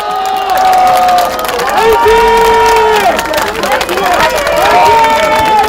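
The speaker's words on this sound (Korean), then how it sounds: "박수 한번 크게 주세요" A crowd at a youth protest in front of the National Election Commission in Gwacheon claps and cheers loudly, with voices and babble mixed in and a sustained tonal sound running through the noise.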